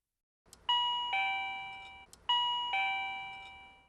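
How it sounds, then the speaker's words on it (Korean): A doorbell chimes a two-tone ding-dong twice in a row, clear and close, each tone ringing out and decaying in a quiet room. "옆집의 초인종 소리 등 외부 소음이 들리면"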